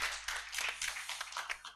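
Audience applause at a university constitutional law moot court competition, a quick burst of hand clapping that sounds faint and distant, with no talk over it.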